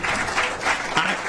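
Steady applause from an audience at a committee worksession fills the room, many hands clapping in a dense, sustained wash at moderate level, with no voices standing out.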